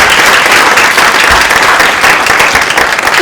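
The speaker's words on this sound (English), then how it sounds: "Please join me in a big round of applause" Loud, dense applause from a conference audience after a social media panel discussion, steady clapping filling the whole stretch without letup.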